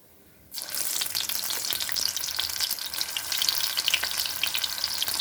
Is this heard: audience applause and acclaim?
no